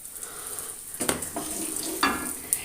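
Cumin and asafoetida powder hit hot oil for a dal palak curry, a soft sizzle that swells as the spices go in, with a couple of faint clinks against the pan.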